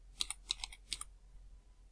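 Quiet typing on a computer keyboard, a few quick clusters of key clicks in the first second, then near silence.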